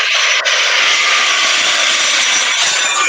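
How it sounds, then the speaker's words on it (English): An aeroplane sound played in a guess-the-vehicle quiz: a loud, steady high-pitched engine whine and roar that holds constant for a few seconds, alone with no talking. "It's aeroplane."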